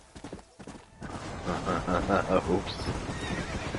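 Horse in the Red Dead Redemption video game neighing and whinnying over steady galloping hoofbeats, loud and close, with a brief spoken exclamation at the start.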